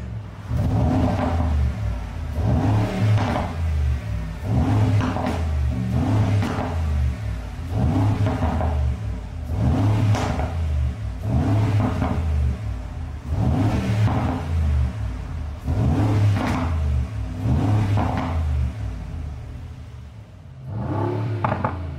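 An Urban Design G700, an upgraded Mercedes-AMG G63, revs hard in Sport Plus mode, its deep V8 roar surging in about nine loud, evenly spaced bursts that stand alone without any voices.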